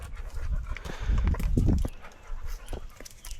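A dog on a hiking trail pants softly and rhythmically at close range, with a few louder breathy bursts in the middle and no talk over it.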